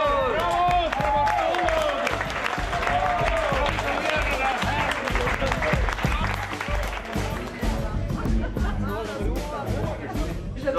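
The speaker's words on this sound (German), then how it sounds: "Applaus für Frau Matulow-Blocher." Applause and murmuring crowd in a parliamentary chamber after an election result, with clapping mixed under overlapping voices and chatter throughout.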